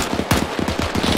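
Rapid automatic gunfire rattles in a World War II firefight in Arma 3, a loud close burst of about a dozen quick shots over roughly a second, fired alone without talk.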